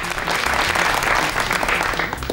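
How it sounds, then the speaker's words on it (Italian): Stadium or studio audience applauding the Roma supporters during an Italian football season broadcast, steady dense clapping throughout with a faint voice underneath. "Questo è un applauso rivolto anche alla tifoseria giallorossa"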